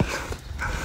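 Small puppies whimpering and whining at close range, short soft cries in a sub-second burst among rescued animals during a disaster evacuation, with low background rumble.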